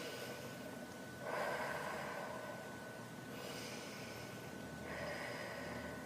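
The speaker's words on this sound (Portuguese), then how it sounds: "respire 3 vezes profundamente" Deep, slow breaths drawn in and let out, close and soft, several long airy inhales and exhales in steady succession with no talking.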